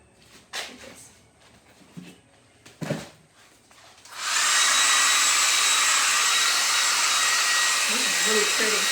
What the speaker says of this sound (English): I'm going to blow dry this with a blow dryer.